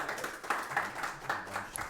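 Seminar audience applauding to welcome a speaker: light, moderately distant clapping from a small crowd, with several uneven hand claps in a loose rhythm.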